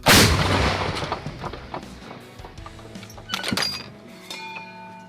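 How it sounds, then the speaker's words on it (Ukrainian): An M119 artillery gun fires one loud, booming shot, followed by clattering metallic clinks and rattles as the blast fades out. "Постріл!"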